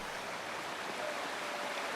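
A steady, soft rushing wash of falling water from a waterfall in the video game Wuthering Waves, even and continuous with no speech.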